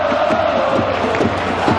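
Red Devils supporters roar and cheer in a packed football stadium during a Brazil World Cup match, a dense, continuous crowd din with rhythmic chanting pulses and no break.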